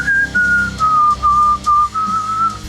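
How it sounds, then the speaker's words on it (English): Someone whistles a simple melody alone, clear and close, in short sustained phrases with brief pauses between notes. "One thing that you can do to come up with a melody is you can just whistle."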